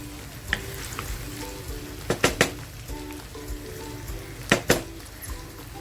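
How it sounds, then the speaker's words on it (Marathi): Potato katli curry frying in a pan with chillies, stirred gently: a continuous sizzle with a low hum beneath and several sharp clacks of the spoon against the pan, up close and without talk. "हलक्या हातांनी ना ती भाजी हलवून घेते"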